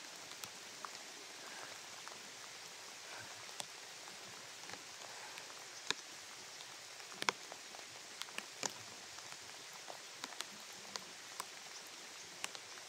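Steady rain pours outdoors, a dense hiss of drops with scattered sharper taps and patters throughout, constant and fairly loud with no voices.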